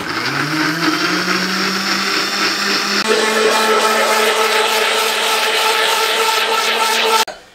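A mixer grinder jar blends capsicum for chutney, a loud continuous whirring drone that shifts pitch partway through as the load changes, then cuts off abruptly.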